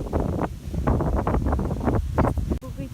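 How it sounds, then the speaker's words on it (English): Strong wind buffets the microphone in loud, irregular low rumbling gusts that keep rising and falling. "It's really windy."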